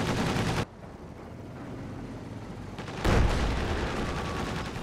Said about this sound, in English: The AA half-track chasing after it with the machine guns only firing.